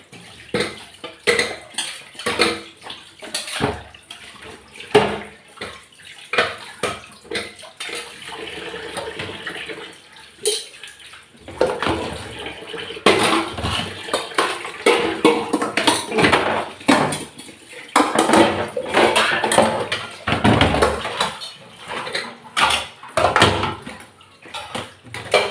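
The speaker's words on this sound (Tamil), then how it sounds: "இப்போ பாருங்கள் அவ்வளோ பாத்திரமும் க்ளீனாக நம்ம மேலே துணி படாமல் தண்ணி வேஸ்ட் பண்ணாமல் பாத்திரத்து கழுவியாச்சு" Pots, vessels and cutlery clatter and scrape as they are scrubbed and rinsed under running water in a small sink, with busy, continuous clinking close by and no talking.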